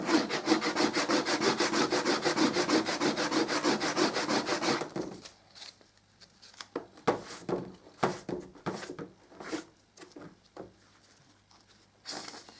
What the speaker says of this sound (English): keep sanding back.